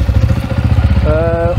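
A 2016 Yamaha 450 WRF dirt bike engine runs with a loud, rapid, throbbing pulse close by, while a voice talks over it.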